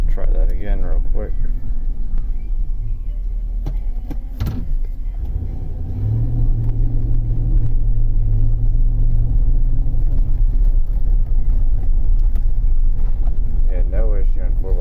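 A 2004 Chevrolet Suburban with a 6.0-litre engine drives in 4-wheel drive. Its steady loud rumble and road drone fill the cabin, the engine note rising briefly partway through, with a voice heard briefly over it.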